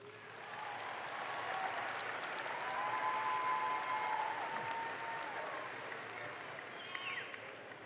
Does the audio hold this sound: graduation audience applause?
yes